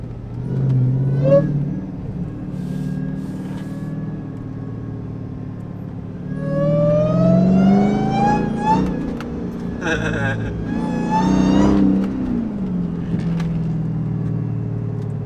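A supercharged 1,000-horsepower Dodge Charger Demon revs hard and close, its engine roar carrying a rising, high-pitched supercharger whine over a low rumble, with voices talking over it.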